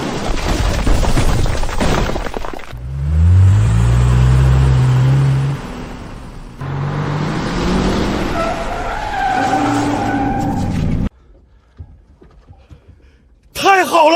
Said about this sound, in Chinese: 有声音，是引擎声。